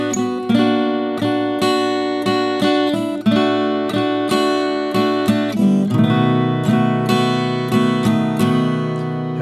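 An acoustic guitar strums partial chords for a song in a steady, evenly spaced rhythm of bright ringing strums and chord changes, close and clear with no talking.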